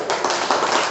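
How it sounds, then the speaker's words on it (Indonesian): A few quick claps from an audience at an Indonesian talk begin as applause for a person, short and fairly close. "Tepuk tangan untuk Pak Ajun."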